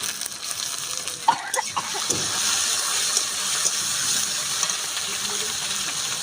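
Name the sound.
straining noodles from cold water, water draining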